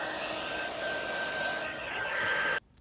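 A hair dryer blows steadily at close range to dry gold paint on a decoupaged Dollar Tree cutting board. It runs as a loud, even whoosh for over two seconds, then cuts off abruptly.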